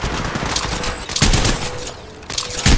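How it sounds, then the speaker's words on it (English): Bursts of automatic gunfire in the video game Apex Legends, loud clustered volleys separated by short lulls, with a fresh burst at the very end. "Hey, I'm getting shot."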